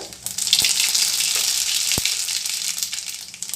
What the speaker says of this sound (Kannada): ಎಣ್ಣೆ ಕಾದಿದೆ ಈಗ ಸ್ವಲ್ಪ ಸಾಸಿವೆ